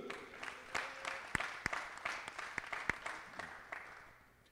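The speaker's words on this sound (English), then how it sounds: "please, big applause and welcome to Mr." Moderate applause from spectators at a para shooting rifle prone event, scattered individual claps standing out sharply over a softer patter that tapers off.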